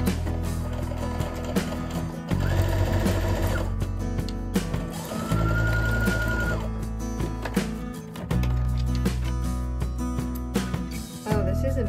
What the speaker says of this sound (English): And I'm gonna keep sewing the strip more.